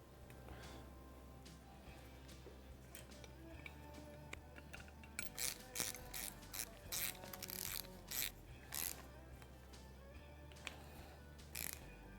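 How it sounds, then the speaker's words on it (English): Bolts being tightened down on the valve cover of a Polaris RZR 900 engine during rebuild, heard as a series of faint ratcheting clicks and metallic ticks, some in quick bursts, over a low hum. "and tighten our bolts down."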